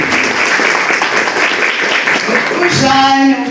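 Audience at a public lecture on dictatorship, memory and human rights in Brazil claps together as a dense, steady burst of applause for the people named. A single clear tone enters near the end.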